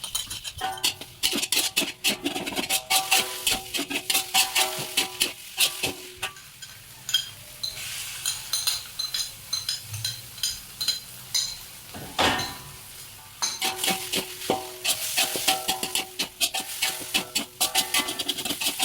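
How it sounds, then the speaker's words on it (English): Tofu frying in a little hot oil in a wok for a Thai holy basil stir-fry, giving a steady sizzle with frequent clinks and scrapes of a utensil against the pan, close and continuous throughout. "she's just going to heat up a little bit of oil, and first she's going to fry up the tofu."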